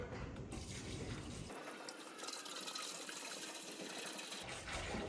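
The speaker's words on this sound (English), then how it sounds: "Old water coming out of the well out here is pretty cold." Cold well water pours steadily into the tank of a Vevor 30L ultrasonic cleaner, a continuous rushing hiss at moderate distance that briefly changes tone near the start and end.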